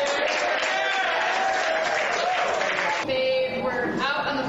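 Crowd of the conservative group Americans for Prosperity clapping and cheering, dense sustained applause with a slight dip and swell near the end, no distinct voices.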